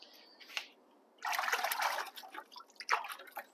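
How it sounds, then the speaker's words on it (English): Fingers rinsed in a small amount of water while cutting comb honey, giving soft splashes and trickles in a few short bursts, close and fairly quiet. "Had a little bit of water there to rinse my fingers off."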